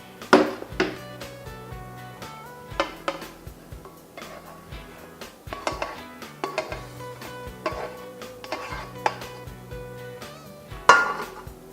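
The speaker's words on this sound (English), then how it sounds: "the first thing we're gonna do is just add that ground turkey right into our crock pot" Ground turkey goes into a crock pot amid scattered clinks and knocks of a utensil against the pot and dishes, irregular and fairly close, with quiet gaps between them.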